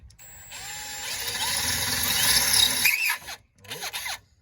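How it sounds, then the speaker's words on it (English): A power drill bores a bolt hole while a Trust Vectors Cobra Jet is fitted to a Yamaha, rising into a steady whining squeal for a few seconds, then stopping and giving a short second burst, close by. "Now I'm going to quickly drill this back one."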